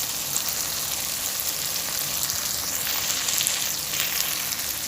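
Spices with turmeric and dried red chili powder sizzle and fry in hot oil in a pan, a continuous close hiss of steady crackling with faint stirring and no voices.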